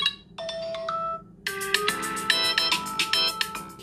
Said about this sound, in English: Let's change the ringtone to something else.